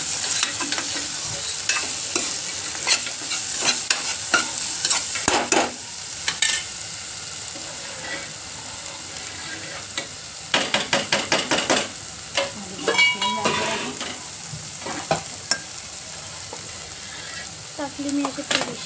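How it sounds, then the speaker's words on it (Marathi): Tomatoes cooking in a pan, stirred repeatedly with a spoon: steady soft sizzling with scraping and clinking strokes, louder clusters of stirring around the middle, close and continuous. "आता याला पण मस्त शिजून द्यायचं आहे. टोमॅटो शिजले आता."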